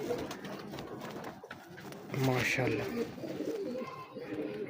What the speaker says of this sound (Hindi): ये सियालकोटी कबूतर है